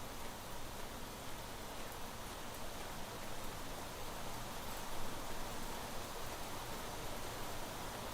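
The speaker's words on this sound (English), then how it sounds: "Sounds like it's raining." Rain in the video game Planet Crafter hisses as a steady, even wash of broadband patter, continuous and without pauses.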